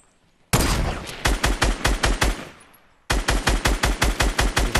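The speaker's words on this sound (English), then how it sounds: "Alright, there's people shooting west." Automatic gunfire in a battle royale video game, delivered in rapid bursts of loud, close shots, with a brief lull between two long strings of fire.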